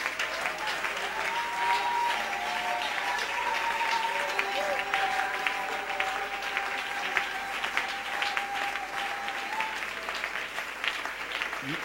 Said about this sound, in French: Acclamons-le bien.